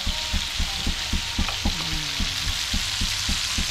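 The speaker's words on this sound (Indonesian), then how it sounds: "goreng tempuyak campur udang" Tempoyak, fermented durian, fries together with giant freshwater prawns in a pan, giving a steady sizzle broken by rhythmic stirring scrapes, close up and with no voices.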